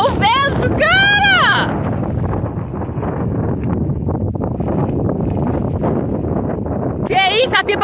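Steady rushing wind buffets the microphone throughout while a kite is flown, with excited shouting at the start and end.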